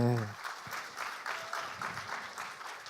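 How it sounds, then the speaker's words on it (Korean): An audience at a 2018 volunteer Ignite talk event in Korea breaks into steady crowd applause for three seconds after a brief voice at the start. "다시 한번 큰 박수 부탁드립니다"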